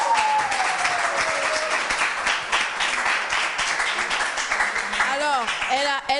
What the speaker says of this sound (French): On continue d'applaudir pour Dossougan.